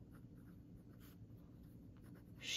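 A BENU Euphoria fountain pen with a fine nib writes on paper with Sailor Shikiori Yuki Akari ink, a very faint close scratching under quiet room hum.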